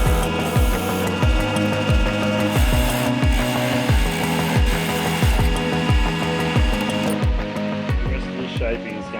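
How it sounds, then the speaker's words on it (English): Sandpaper worked by hand over a corn cob squid lure, a steady series of rasping strokes at a brisk, even rhythm, close and fairly loud throughout. "I'm just going to run a bit of sandpaper and smooth this now."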